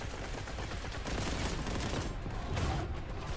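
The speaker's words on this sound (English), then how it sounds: "That was a frag grenade." A frag grenade goes off in the Warhammer 40,000 Boltgun video game: a dense, loud blast of explosive noise amid ongoing gunfire, sustained across the clip with no pause and no speech.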